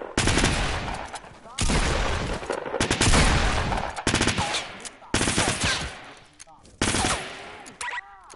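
Dense bursts of automatic gunfire from the Fortnite Battle Royale video game, loud and close, arriving in several rapid volleys separated by brief pauses.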